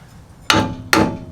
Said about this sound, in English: then we're going to smack this with the hammer.